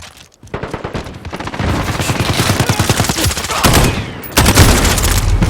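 A SCAR rifle in the Modern Warfare video game fires in rapid, loud automatic bursts, sharp shots following one another quickly with brief gaps between bursts.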